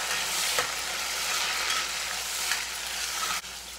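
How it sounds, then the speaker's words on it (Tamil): Tomato sizzles and crackles steadily in hot oil for a brinjal gravy, with occasional stirring scrapes in the pan, close and fairly quiet. "எண்ணெயிலேயே இந்த தக்காளி நல்லா வணங்கட்டும்."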